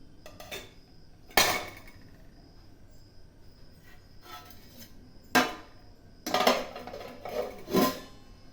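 Metal utensils clank sharply in a pan as a plate is set on a stand inside it and a lid is put on, several separate bangs and rattles with quiet gaps between them.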